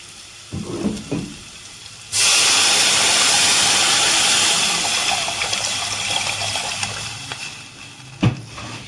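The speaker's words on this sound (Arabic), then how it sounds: "هنزل عليه بقى بايه، بالميه." Water poured onto garlic frying in a soup pot for sprouted fava bean soup, bursting after a few soft clatters into a loud, sustained steamy sizzle and hiss that slowly eases, ending with a sharp clunk.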